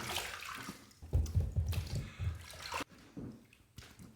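Water running from a tap over a razor as it is rinsed, a near, splashy flow with uneven gurgling surges that ends abruptly.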